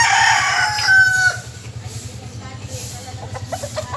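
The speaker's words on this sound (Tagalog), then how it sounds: "kunting pasilip sa aking mga alagang manok" A gamecock rooster crows loudly once, its call trailing off, followed by scattered softer clucks over a steady low mechanical hum.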